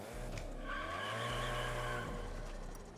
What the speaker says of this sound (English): In Season 6, the sound of the interior, I think, gets improved. Yeah, it feels like kind of muted.